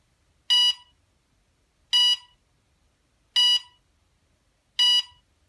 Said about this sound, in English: Each option is indicated by a specific series of beeps.